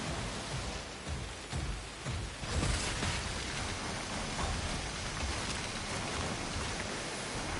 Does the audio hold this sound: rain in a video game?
yes